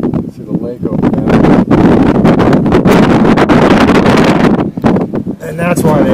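Strong gusts of wind buffet the microphone, rumbling loudly and almost nonstop, with brief lulls between blasts.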